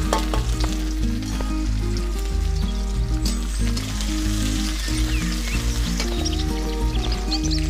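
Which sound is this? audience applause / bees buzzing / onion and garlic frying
onion and garlic frying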